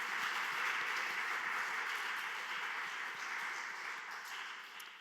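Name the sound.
congregation applauding in thanks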